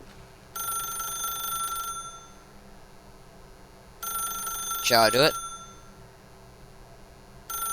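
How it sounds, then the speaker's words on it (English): A telephone rings in The Stanley Parable video game, two long electronic ring bursts separated by a pause, with someone speaking briefly over the second ring. "then pick up the phone."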